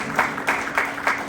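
Clapping from the audience at the EPCA 40th Annual General Captains Meeting for cricket: short, rhythmic bursts about three per second over a steady background murmur.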